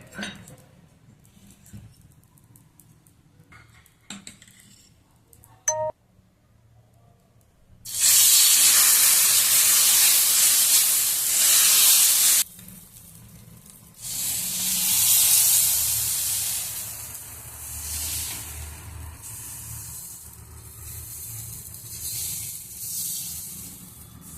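Appe batter sizzling in oil on a hot griddle, a loud bright hiss that bursts in, drops away briefly, then returns and holds steady with crackling patter, after a quieter stretch of faint clatter.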